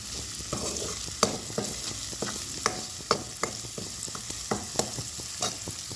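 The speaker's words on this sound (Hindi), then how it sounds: "ये इधर मैं आलू फ्राई कर रही हूँ मैंने काट के और बस इनको फ्राई कर लूँ" Cut potatoes fry in a pan with a steady bright sizzle, while a utensil stirs them in regular, close clicks and scrapes; no one speaks.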